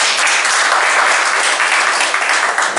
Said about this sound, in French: Donc, on applaudit tout le monde.